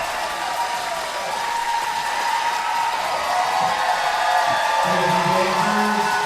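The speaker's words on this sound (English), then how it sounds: "Wow, great crowd applause there. Getting loud." A crowd at a ballroom dance competition at Boston Dance-O-Rama applauds in a large hall, the dense clapping swelling louder over several seconds and mixed with scattered whoops and cheers.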